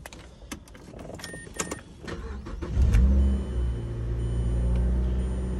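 A 2014 Mazda Miata with 19,000 miles cranks and starts, building to a loud close engine roar near three seconds and then settling into a steady, rumbling idle.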